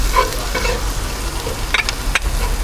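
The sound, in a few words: chili flakes and seasoning mix cooking in BBQ sauce pan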